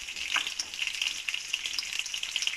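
Peshawari chapli kebab frying in oil, a steady close crackling sizzle with dense bright spitting that holds evenly for a couple of seconds with no talk.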